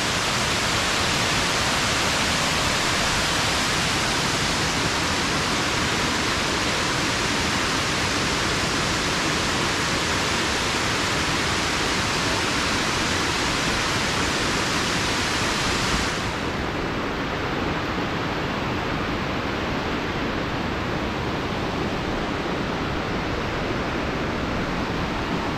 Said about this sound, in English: For a terrace waterfall, how are you going to get more beautiful than this?